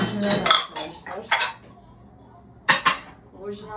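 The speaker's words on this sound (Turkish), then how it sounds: "Bulaşık makinesindeki kapları, tabakları, çanakları yerleştirme sesi." Dishes and plates being loaded into a home dishwasher make several sharp ceramic and cutlery clinks and clatters in irregular bursts, close and fairly loud, with quiet gaps between them.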